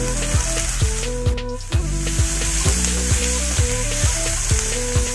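Chopped tomato sautés with onions in a hot pan, a steady close sizzle and frying crackle running throughout, with a background tune playing underneath.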